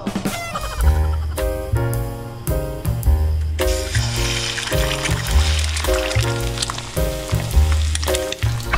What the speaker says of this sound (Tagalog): Mag-fry muna ako ng eggs.